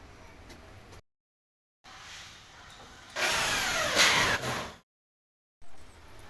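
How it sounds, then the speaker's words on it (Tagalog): A power drill driving black screws through hardiplex ceiling board into metal furring, heard as a loud, steady whirring burst of a couple of seconds, set between quieter stretches and abrupt gaps of silence. "Kinabit na namin ang hardiplex gamit ang black screw"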